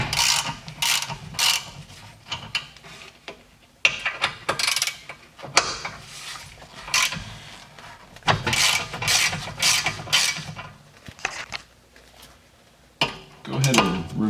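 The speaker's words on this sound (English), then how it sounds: "break the guide pins loose" A 7mm Allen bit breaking loose the guide pins on a BMW brake caliper, heard as close, irregular metallic ratcheting and clicking bursts with pauses between them.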